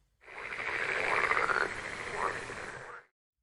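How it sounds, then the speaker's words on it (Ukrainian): A frog croaks in one sustained, rasping call lasting about three seconds, close and loud, heard alone with no talk. "Жаба."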